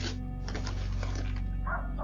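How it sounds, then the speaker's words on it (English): Small dogs bark at home, heard on a doorbell camera as a quick, faint cluster of yaps over a steady background hum, with no voices. "I can tell you got small dogs by the bark."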